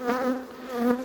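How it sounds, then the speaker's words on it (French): Honeybees hum steadily around a reinforced swarm hive, a close, loud, continuous buzz that swells and eases slightly as insects move near, with no voices over it. "Pas énormément d'abeilles hein, dans mon essaim renforcé"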